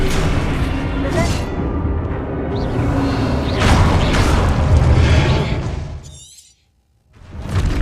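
A spell blast from the video game Hogwarts Legacy, a loud booming explosion with a shattering burst and whooshing debris that holds for several seconds, then cuts to brief silence before the game sound returns.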